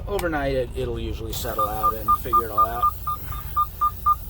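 Regular high electronic beeps from a truck's seatbelt warning repeat about twice a second, starting partway through while someone talks over them.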